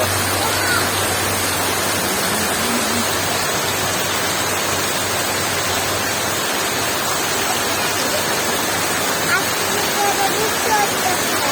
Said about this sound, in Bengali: অনেক জোরে বৃষ্টি হচ্ছে, দেখছো?